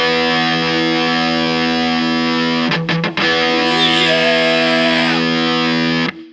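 Distorted electric guitar in standard E tuning, a loud sustained chord riff with a brief choppy break midway, then ringing again until cut off.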